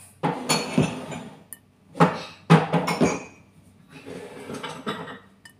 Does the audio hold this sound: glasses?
yes